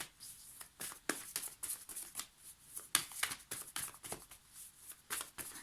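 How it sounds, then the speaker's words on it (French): A Dixit card slid and drawn from the deck, a quick run of papery flicks and rustles at close range with no one talking. "Je tire une carte du Dixit."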